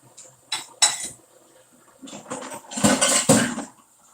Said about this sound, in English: The clanging of dishes? You don't get a lot of that on YouTube.